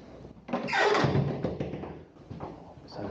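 A toilet door at a caravan site creaking open, a long close groaning squeal that rises and fades, followed by a softer thump.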